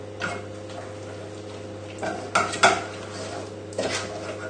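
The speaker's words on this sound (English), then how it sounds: "And give it a stir." A spoon stirs creamy mashed potato in a saucepan, giving a few soft scraping knocks and clinks against the pan over a steady low hum, with no talk.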